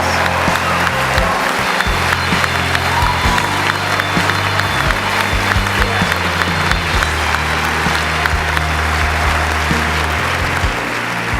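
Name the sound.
applause from graduates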